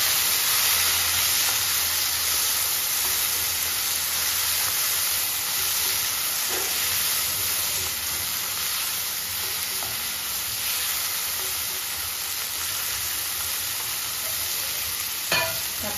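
Tomatoes with onions sautéing in a hot pan, a steady loud sizzle and hiss running throughout, with occasional scrapes of stirring and a brief clatter near the end.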